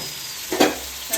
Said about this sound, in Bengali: তারপর মশলাটাকে কষে নিচ্ছি